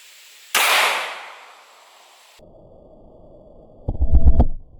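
A 9mm +P Hornady Critical Duty round fired into a ballistic gel block behind layered denim: one sharp, loud report with a long decaying tail, followed later by a burst of clattering mechanical noise.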